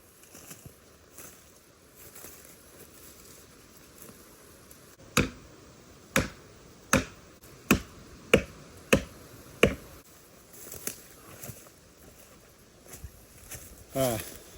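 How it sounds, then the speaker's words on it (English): Sharp, evenly spaced hammer blows drive a wedge into a cut in a tree to free a trapped saw, about eight crisp strikes in a row outdoors over a faint background. "Just driving that one wedge in there"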